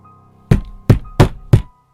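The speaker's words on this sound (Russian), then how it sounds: "О боже, я не могу не думать об этом стуке." Four sharp knocks on a window glass at a slow, uneven rhythm, loud and close against a quiet background, with no voices.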